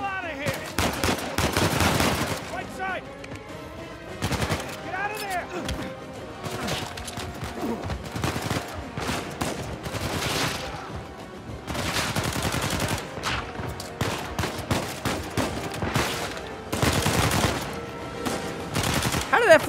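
Rapid bursts of gunfire in the video game Uncharted 4, automatic weapons rattling in clustered volleys with brief lulls between them, loud and close, with a player's voice occasionally heard talking over the shooting.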